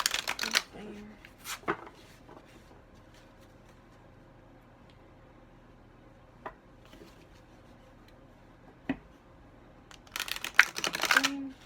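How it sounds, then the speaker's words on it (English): A deck of tarot cards being shuffled in short riffling bursts at the start and again near the end, separated by long quiet stretches with a few faint taps. "To make sure that it's properly shuffled."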